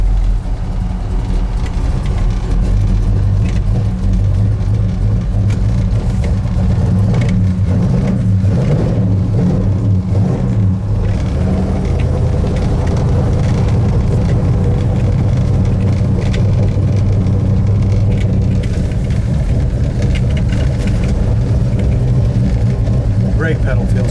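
A 1970 Ford Torino Cobra with a 429 engine idles and rumbles loudly and steadily throughout, a deep continuous drone with some swells, while someone talks over it.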